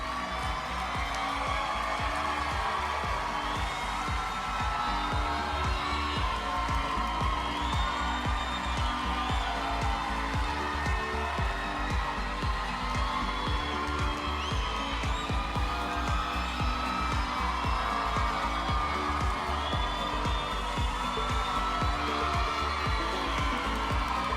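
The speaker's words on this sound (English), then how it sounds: "give them a huge round of applause. Make some noise, folks!" A large crowd cheers and applauds the Miss USA contestants during the Miss Universe costume show, a dense, steady roar of whoops and clapping under loud music that carries on unbroken for about twenty-four seconds.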